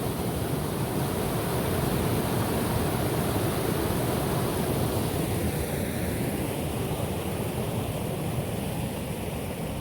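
Fresh snowmelt thunders down an Oregon waterfall in a constant, heavy rushing roar that stays close and unbroken for ten seconds, with no voices present.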